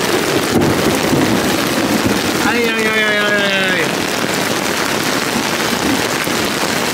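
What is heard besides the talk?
heavy rain during a thunderstorm in a forest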